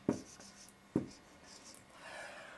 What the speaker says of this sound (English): Write that a bit bigger just so you can see.